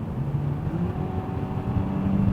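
Hyundai Sonata accelerating hard on a test drive, a steady engine drone heard from inside the cabin with a rising whine over a low rumble, no talk.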